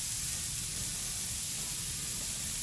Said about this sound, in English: you throw this on and you get that nice sizzle